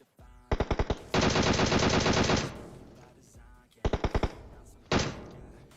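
Gunfire in the mobile battle royale game PUBG Mobile: short bursts of rapid automatic shots, a long sustained volley, then more quick bursts and a single shot, loud and close.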